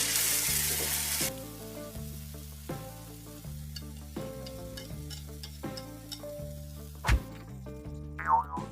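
Onions sizzle and fry in a pan for a fenugreek leaf and tomato curry, a steady crackle broken by repeated scrapes and knocks of a spoon stirring, with a sharp clatter near the end.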